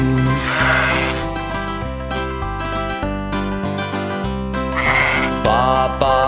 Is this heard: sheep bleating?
yes